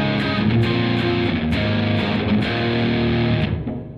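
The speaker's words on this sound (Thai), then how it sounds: "์แล้วก็จะมีเสียงแตกให้เป็น power chord" Heavily distorted electric guitar power chords ring out in a dense, sustained wall of sound, loud and steady with a few re-struck chords before fading at the end, played live through a preset on a multi-effects setup.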